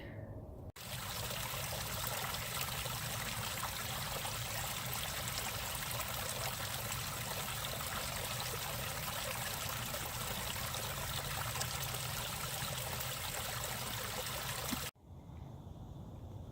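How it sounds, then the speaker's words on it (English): Runoff water flows through a woodland stream in a steady, loud broadband rush that trickles and gurgles without pause, then cuts off abruptly near the end with no voices present. "But as you can see, there's all kinds of runoff down here."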